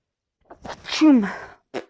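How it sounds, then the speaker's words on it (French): A single sharp human sneeze, close and loud, with a quick intake of breath before it and a short trailing sound after, during a tarot card reading. "Le fait que j'éternue comme ça, des fois, ça veut dire qu'on on m'a déjà répondu à ma question"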